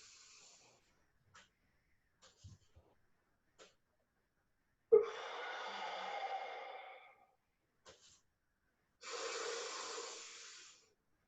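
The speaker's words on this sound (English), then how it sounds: "I'm holding for 5, I'm breathing out for 5." Slow controlled breathing exercise: a few faint clicks and sniffs, then a long audible exhale, a pause, and another drawn-out breath, close and isolated against silence.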